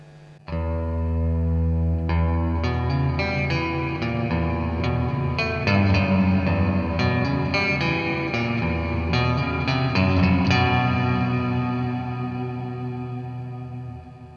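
Electric guitar notes and chords ring out through a Joyo Ironman JF-317 Space Verb pedal simulating amp spring reverb, with a wet, splashy reverb tail, played alone and sustained, washing into each other before fading at the end.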